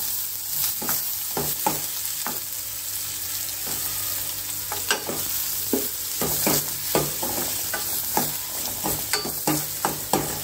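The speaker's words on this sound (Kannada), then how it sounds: "ಈರುಳ್ಳಿ ಚೆನ್ನಾಗಿ ಫ್ರೈ ಆಗಬೇಕು" Finely chopped onion frying in a pan for curd rasam, a steady soft sizzle broken by repeated sharp scraping clicks of a spoon stirring against the pan, close and without talk.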